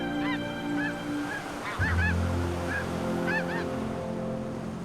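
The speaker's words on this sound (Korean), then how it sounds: "붉게 물든 하늘을 철새들이 무리지어 날고 있다." Flock of migratory birds, ducks and geese, honking and calling repeatedly over a lake at dawn at Sapgyo Lake, with a low steady rumble underneath.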